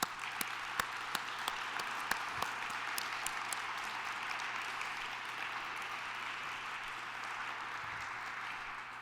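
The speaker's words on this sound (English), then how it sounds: "Please join me in a big round of applause to celebrate our awardees from the past 10 years." Audience applause at a Columbia teaching awards ceremony honoring faculty awardees, a steady sustained round of clapping with a few sharper individual claps standing out, continuous for the whole stretch.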